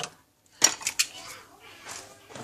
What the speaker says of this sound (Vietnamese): đồ khuấy của mình nó hơi bị bẩn, thì giờ mình sẽ sắp xếp lại